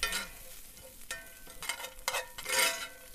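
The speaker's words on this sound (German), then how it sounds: "Und dünsten das einmal alles gemeinsam an." Spices and cloves sautéing in a pan for mole poblano, with a soft background sizzle broken by several sharp scrapes and stirring clatters at irregular intervals.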